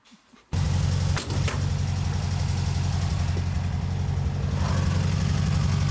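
A Slamrover car engine runs loud and steady while driving on the road, starting abruptly after a brief quiet moment and holding a continuous low throbbing drone throughout.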